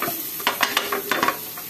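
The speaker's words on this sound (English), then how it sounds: "saute until the onion transparent" Onion sautéing in a pan for a Mexican casserole rice, a steady close sizzle broken by several quick scraping stirs.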